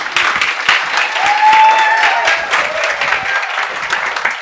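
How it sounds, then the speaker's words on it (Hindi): A live audience gives steady, dense applause, many hands clapping at once, loud and sustained from start to finish. "लेडीज एंड जेंटलमैन, एक बार ताली बजा दो"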